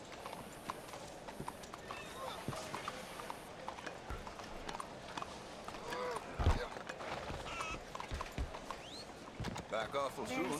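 A horse's hooves clop in Red Dead Redemption 2 amid busy game ambience, with a brief whinny and a louder thud in the middle while a person talks over it.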